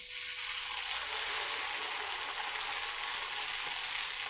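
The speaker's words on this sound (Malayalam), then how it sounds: "അപ്പോൾ നമുക്ക് അപ്പം ചുട്ടെടുക്കാം." Appam batter cooks in an appam pan with a soft, steady, close sizzling hiss that continues evenly throughout, with no voices over it.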